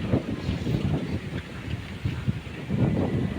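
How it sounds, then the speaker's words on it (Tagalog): Strong wind roaring over a rice field, low rumbling gusts buffeting the microphone continuously and loudly, swelling and easing in waves. "Sobrang lakas. Ang lakas po ng hangin."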